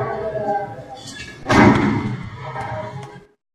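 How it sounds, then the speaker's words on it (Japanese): Played-back recording of gunfire from the shooting of Shinzo Abe: one loud, sharp boom midway that rings out and decays amid a murmuring crowd and background voices. "一発目から次の狙撃の音、それと2発目の音が出ます"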